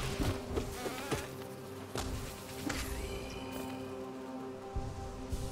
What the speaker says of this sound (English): Ooh, I don't like that buzz. I don't like that buzzing at all.